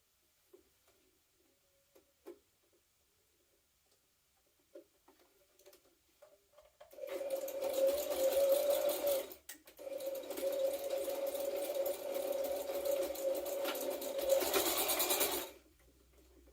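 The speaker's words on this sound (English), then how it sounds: "I'm going to tack that on the sewing machine" A domestic sewing machine tacks through bulky jumpsuit fabric, a fast close mechanical whir starting after several seconds of near silence with faint clicks, briefly stopping once, then running steadily before cutting off.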